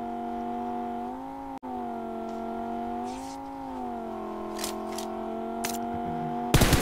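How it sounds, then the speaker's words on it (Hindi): A vehicle engine in a battle-royale style mobile shooter game holds a steady, sustained drone with slight pitch rises as it accelerates, running continuously at moderate loudness with brief clicks and game effects near the end. "अभी आपने जो एक गाड़ी की आवाज़ सुनी है"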